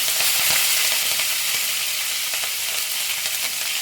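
Dry red chillies and chopped green chillies fry in hot oil with cumin, giving a loud, continuous crackling sizzle close by with no voices.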